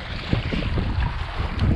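Small sailing dinghy under way, with a continuous rush of wind buffeting the microphone over a low wash of water along the hull, steady and fairly loud throughout, with no speech.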